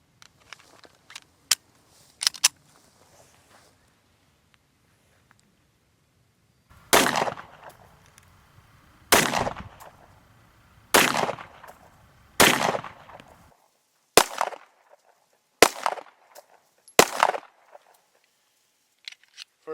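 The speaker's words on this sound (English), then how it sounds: "I'm going to start off shooting some Winchester White Box 9mm" A Remington R51 9mm pistol firing Winchester White Box ammunition: after a few faint clicks, about seven sharp, loud reports ring out spaced a second or two apart, each trailing a short echo.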